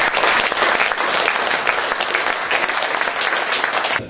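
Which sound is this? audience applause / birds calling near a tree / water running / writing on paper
audience applause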